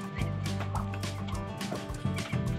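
Young muscovy ducklings, nearly two months old, peep and chirp in a farm pen as overlapping short calls come close and fairly loud over steady background noise.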